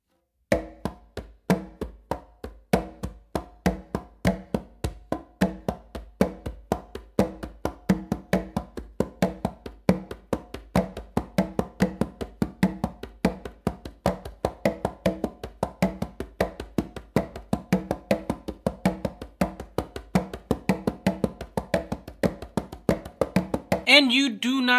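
Congas played in a 3-2 son clave independence exercise tap out a steady, fast stream of crisp hand strokes with recurring accented slaps, close and even for over twenty seconds before a voice cuts in at the end.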